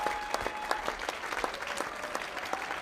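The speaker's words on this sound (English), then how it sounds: "The crowd got crazy and he's closing with another of his strikes." Crowd applauding and cheering at the men's final of the 2015 European bowling championship in San Marino, steady clapping with sharp bursts throughout, fairly loud and close.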